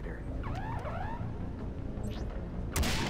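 A warbling electronic alarm from the video game Far Cry 3 Blood Dragon rises and falls in a few quick sweeps over a dense rumbling game backdrop, followed by a sudden loud burst near the end.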